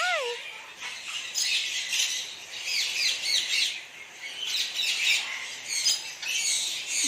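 Pet ringneck and Alexandrine parrots in an indoor cage setup squawk and screech repeatedly at close range in shrill, overlapping bursts, with a brief voice near the start.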